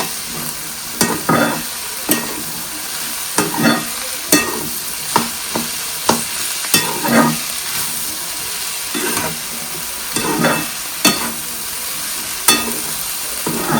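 Food being mixed by hand in a bowl for a Konkan Shimga festival dish, before steaming; repeated soft squelching and scraping strokes at an uneven rhythm, close and fairly loud with no talking.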